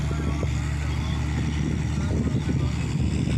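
A river boat arriving at Nimatighat, heard as a continuous low engine drone mixed with wind buffeting the microphone, steady throughout.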